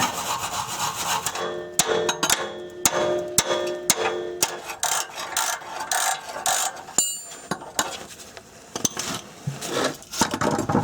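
Wrench working a rusted exhaust fastener on a Subaru, a close series of rhythmic metallic scraping and ratcheting strokes with sharp clicks, continuing in irregular bursts without talk.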